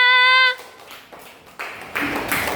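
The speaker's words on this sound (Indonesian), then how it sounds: "beri tepuk tangan untuk kelompok 3" A class in a school lesson applauds a student group. A brief harmonic tone comes first, then a quiet pause, then clapping begins and grows louder in two steps into steady applause.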